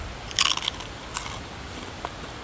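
A single crisp bite into black pepper chips in Hokkaido gives a sharp crunch, followed by a couple of fainter crunches from chewing against a soft background hiss, with no talking.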